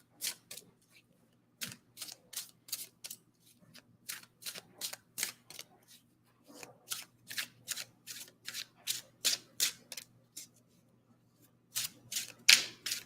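Cards are shuffled and laid out for an intuitive reading, heard as crisp, rapid riffling bursts in irregular groups, close and clear against a quiet background.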